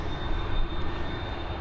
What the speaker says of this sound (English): It looks like this Ryanair is off next though. Heading over to Lisbon,